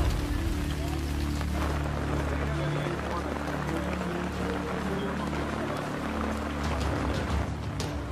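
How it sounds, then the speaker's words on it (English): Steady rain falls during a night-time expedition in the Maya underworld region, a dense, continuous hiss with a low rumble beneath, while people speak nearby over it. "When did this rain start?"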